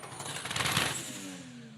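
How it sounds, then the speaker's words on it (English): Race car engines roar loudly and continuously at a night battle-round motorsport event, a dense, sustained blare of revving with a brief surge in the middle. "there's no point in me saying anything when the cars are revving that loud"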